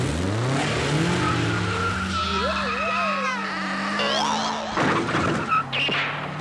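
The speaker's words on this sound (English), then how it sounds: "Gentlemen, start your engines." Cartoon race cars rev and roar at a starting line, engines whining up and down in pitch with a skidding, squealing edge, loud and close, ending in a burst of revving.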